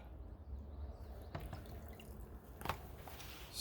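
Water poured and dripping over a Lionheart Regulus Blackout Alpha rifle during a torture test, a soft wet trickle with a few sharper splashes and drips, fairly close and alone.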